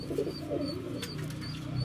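A pigeon coos close by in soft, low, throaty murmurs that roll on steadily for a couple of seconds over faint background noise.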